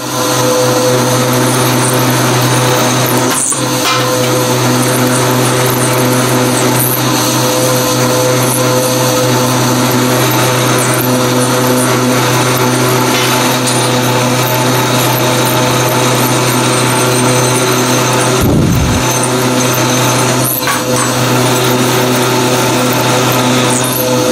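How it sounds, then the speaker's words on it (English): A 3/8 end mill cuts into a 670 Ski-Doo snowmobile drive shaft to lighten it, a loud, continuous machining whine and grind that holds steady throughout, with a couple of brief dips in the cut. "here's some of the milling of the shaft to cut some weight out"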